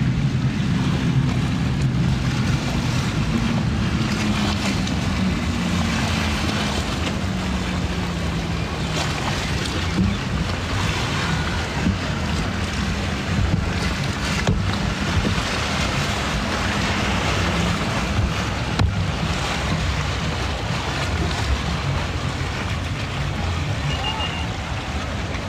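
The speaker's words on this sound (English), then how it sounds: "This looks a bit like a speedboat. It is. It's one of those fancy speedboats." Engine drone of a fancy speedboat out on the water near a Miami beach, a steady low rumble running the whole time, pitch sliding gradually downward, mixed with wind and surf wash.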